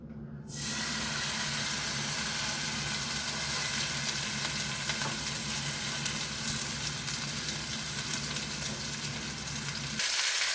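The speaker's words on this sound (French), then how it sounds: "on va le passer à la sauteuse avec un peu d'huile d'olive" A turkey roast seasoned with salt and pepper sears in olive oil in a sauté pan, producing a loud, constant sizzle that starts abruptly and holds steady, with faint kitchen clatter and no talk.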